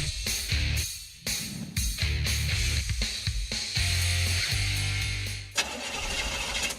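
A car engine with trouble cranks and stutters through repeated start attempts, loud and close, its chugging bursts cut by short pauses before it briefly catches with a rising rev near the end.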